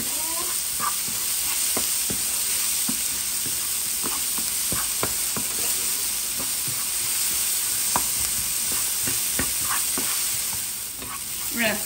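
Onion fries in a pan with a constant hissing sizzle, punctuated by repeated sharp scrapes and taps of a spoon stirring it, close and steady for the whole stretch, without speech.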